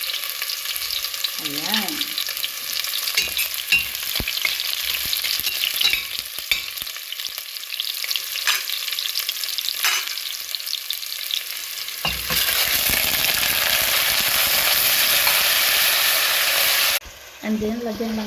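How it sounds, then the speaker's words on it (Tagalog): Garlic and sliced pork sizzle and fry in a pan for adobo, a steady crackling hiss that jumps louder partway through as the pork goes in, with occasional stirring and brief talking. "iprito muna natin itong bawang at garlic. And then, isunod natin yung ating slice of pork"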